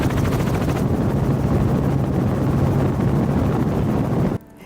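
A helicopter over Maui flies for an aerial shot, its rotor thumping in a loud, steady, rapid pulse with a wash of wind noise throughout, before the sound drops sharply at the very end.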